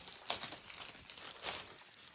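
Crinkly plastic and paper rustling as a parcel from France is unwrapped, continuous and fairly close, with no talk.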